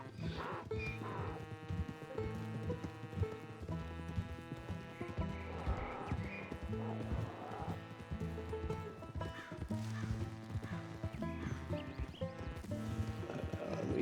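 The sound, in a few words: mule hooves clip-clopping in Red Dead Redemption 2 video game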